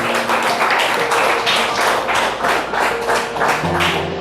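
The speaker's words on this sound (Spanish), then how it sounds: "Denle un aplauso a Dios." A church congregation breaks into sustained applause, dense overlapping hand claps in a steady rhythmic wash, loud and close, with a low sustained tone under it and no talk.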